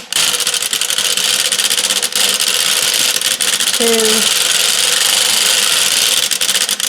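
A 3D printed knitting machine works a row of tuck stitches with a steady, loud mechanical whirring and clatter, running continuously close by with a brief tonal squeak midway.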